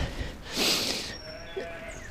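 A sheep bleats once in open countryside along a hilly lane, a fairly close drawn-out call followed by quieter ambient sound.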